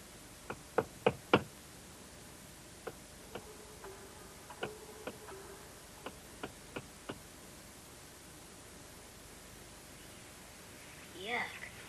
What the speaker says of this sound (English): Why did he keep knocking on the walls?